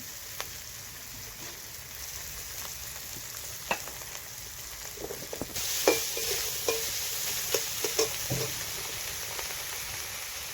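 Karkol seeds fry in a pan with a continuous sizzle while a utensil stirs them, adding irregular scraping clicks that grow louder and more frequent partway through.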